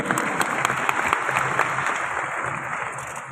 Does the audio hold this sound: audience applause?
yes